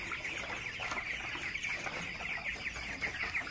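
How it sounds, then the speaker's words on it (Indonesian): Broiler chickens at 23 days old, roused as someone walks through the middle of the flock in a poultry house, fill the space with dense, continuous clucking and chatter from many birds at once, close and without talk. "setelah kita lewati gini, berjalan di tengah-tengah, maka ayam akan bangun dan akan makan lagi"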